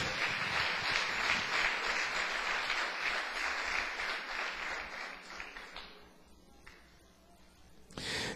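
Church congregation giving a round of clapping for Jesus, thick and fairly loud at first, then thinning and fading out toward the end before a brief sound cuts in.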